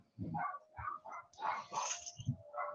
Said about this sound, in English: I'm sorry if you can hear my dogs going crazy upstairs